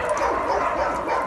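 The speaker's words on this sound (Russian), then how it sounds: "А спокойняк, все гавкают там что-то." Several dogs bark at a shelter, a dense, continuous mix of barks and yips under an even background din.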